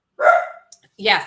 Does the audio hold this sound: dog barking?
yes